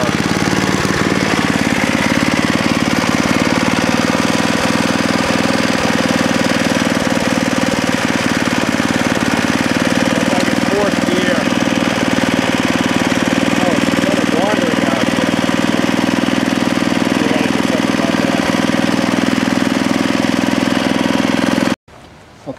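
A rusty vintage snowblower engine runs loud and steady with its drive engaged, a rough, knocking mechanical drone close by that continues unbroken and then cuts off abruptly near the end.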